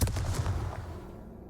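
A Confringo blasting spell goes off in Hogwarts Legacy, a loud burst of booming, explosive impacts crowding the opening half-second and then fading into a rumbling tail.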